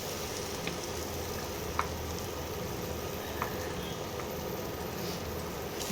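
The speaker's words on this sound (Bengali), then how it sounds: "মশলা থেকে তেল ছাড়তে আরম্ভ করেছে, এই সময় দিয়ে দেবো আমি চিংড়ি পেস্টটা।" Prawn paste sizzles steadily in hot spiced oil, a close, even frying hiss with a few faint clinks of a utensil.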